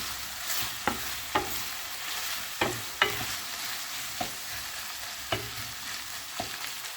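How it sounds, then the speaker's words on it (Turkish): Tripe and spices stir-fry in a pan with a continuous moderate sizzle, punctuated by about eight scraping stirs from a utensil at irregular intervals, close and without talk. "İşkembemizi baharatlarımızı ilave ettik. Tekrardan karıştıralım."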